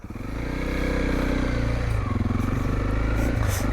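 A Honda CRF 300 L trail motorcycle pulls away in first gear, its single-cylinder engine droning close and loud as the revs climb steadily, with no speech.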